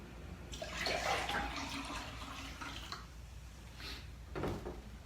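Water pouring steadily to fill a container for a cayenne pepper drink, a continuous splashing, gurgling stream up close, surging in the first few seconds, then tapering off with two short final pours.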